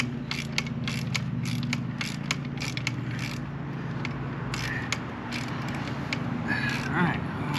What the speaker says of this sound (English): Be able to put a ratchet on it